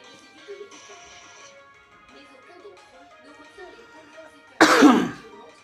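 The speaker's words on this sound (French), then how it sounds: "Je tousse un peu" A single sharp cough bursts out close to the mic near the end, following a stretch of quiet, low-level voice and background sound.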